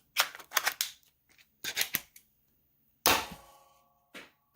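A Nerf blaster loaded with a birdshot shell holding two half darts gives a series of sharp mechanical clacks and snaps in short bursts, with one louder pop and rattle near the end, nearby and with no voices.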